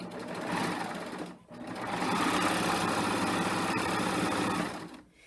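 A serger sews a 3-thread rolled edge seam with a very short stitch length, a fast, close mechanical whir that runs briefly, pauses, then runs steadily for several seconds before stopping.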